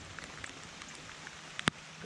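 Rain patters on Lake Wylie during a kayak bass fishing tournament, a soft, even hiss broken by scattered drop ticks and one sharper nearby tap near the end.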